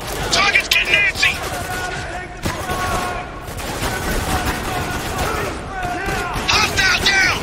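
Turret gunfire in the video game Spec Ops: The Line, a steady rattling barrage of rapid shots running through the whole stretch with booming impacts, mixed with other battle noise and occasional shouted voices.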